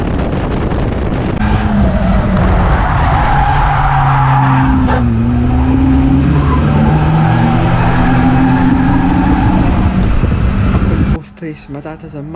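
Race car engine and tires sliding around the top corner of a circuit during a race, a loud continuous roar with shifting engine pitch that cuts off sharply near the end, with talk over it.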